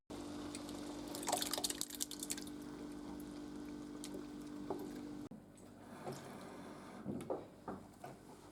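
Canned tomato pulp poured into a pan with reduced red wine, a thick, wet glugging pour with soft plopping splashes, followed by quieter bursts of liquid sloshing, close by with no talking.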